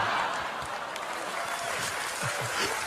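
Applause from a live motivational seminar audience fills the room in a dense, steady wash of many hands clapping, loud and continuous throughout, with no talk over it.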